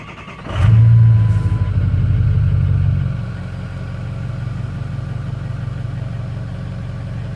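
A 2004 Ford F350 with the 6.0 Powerstroke diesel fires up loud and close, a brief rev settling into a steady, lower diesel idle rumble.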